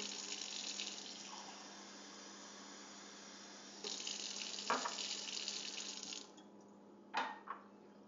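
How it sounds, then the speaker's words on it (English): Tap water runs steadily from a faucet into a glass at home, a broad continuous gush that changes pitch partway through, then stops, followed by a couple of brief clinks near the end. "we're going to put some tap water in the tap glass."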